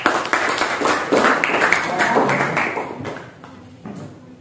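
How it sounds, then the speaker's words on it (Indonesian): Classroom applause from students for a presenting group at a school lesson, a dense run of quick claps holding steady for several seconds before thinning out near the end. "Tepuk tangan untuk kelompok 2."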